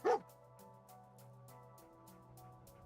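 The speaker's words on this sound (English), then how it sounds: "Dog meat with the alert bark." The dog companion Dogmeat in Fallout 4 giving a single short alert bark at the start, loud and close, followed by quiet rhythmic game ambience.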